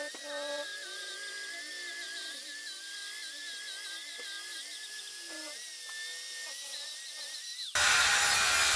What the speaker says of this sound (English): One thing you'll notice when I'm operating this belt sander